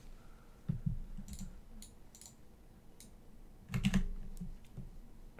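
Scattered keystrokes and clicks on a computer keyboard come in short clusters and separate taps, close by and moderately quiet, with no voices.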